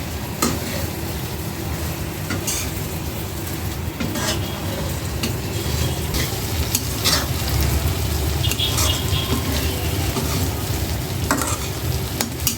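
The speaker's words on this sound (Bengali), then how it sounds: "মশলা কষাচ্ছে" Spices are stir-fried in a pan in a home kitchen, a continuous close sizzle overlaid with repeated scraping and clattering of the spoon against the pan, with no one speaking.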